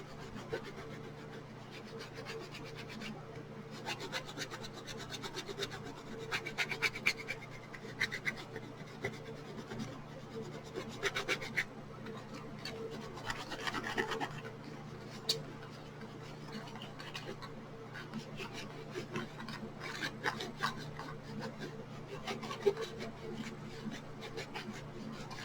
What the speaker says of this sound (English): Then you're going to want to immediately clean off your embossing folder